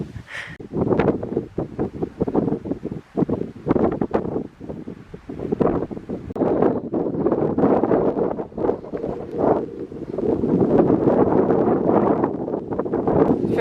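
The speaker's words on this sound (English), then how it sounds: "And it's super windy, which isn't really helping at all." Strong gusting wind buffets the microphone on a mountain day hike up Mount Shrimpton in Mount Aspiring National Park, New Zealand, a loud continuous low roar that surges and eases in uneven waves throughout.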